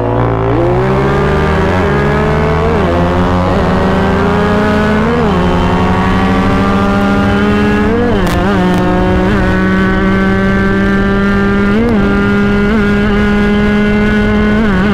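A motorcycle engine with a stiff, hard-to-work clutch runs steadily, its harmonic drone rising and dipping with repeated revs and gear changes over fifteen seconds, close and loud with no talking.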